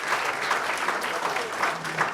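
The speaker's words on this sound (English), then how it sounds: "Big round of applause for Keith." Audience applause for a volunteer called up at a breakfast briefing event, steady dense clapping from a roomful of people, fairly close and loud throughout, with no pauses.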